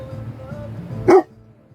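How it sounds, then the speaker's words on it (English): A dog gives one short, sharp bark near the end, loud and close, standing out against a quiet room hum. "He's barking at nothing."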